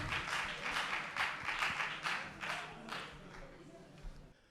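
At a youth competition in presenting a televised news bulletin, a studio audience gives faint, distant applause. It comes in rhythmic surges of clapping and tapers off at the end.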